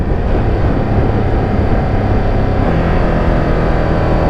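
A 2025 Ducati Panigale V2S motorcycle roars loudly up close, with steady wind-buffeted engine noise and slight pitch shifts as it downshifts with the quick shifter and blipper.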